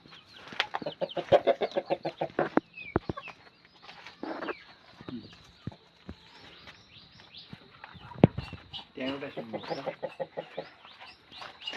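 Chickens cluck and squawk in busy, overlapping bursts, close by, with short pauses between flurries of calls.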